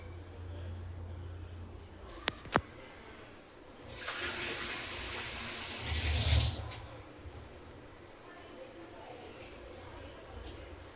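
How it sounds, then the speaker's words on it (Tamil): Water poured into a pot of goat intestines for soup, a steady rushing splash lasting a few seconds mid-clip, after a couple of sharp clicks, over faint room noise. "இப்போ இந்த தண்ணி ஊற்றிடலாம்."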